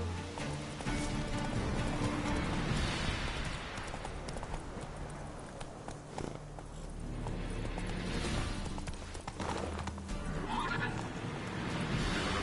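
Roach, the horse in The Witcher 3, neighs loudly at the start and again later while hooves clip-clop continuously beneath, with dense game ambience throughout.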